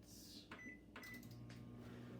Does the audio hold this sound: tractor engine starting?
no